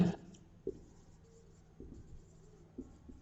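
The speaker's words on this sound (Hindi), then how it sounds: "या फिर ऐसा लिखता हूं मैं" A pen writing on paper during an accounts lesson, with a few soft scratchy strokes and light taps, close and quiet, with no talking over it.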